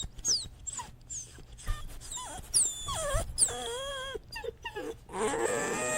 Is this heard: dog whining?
yes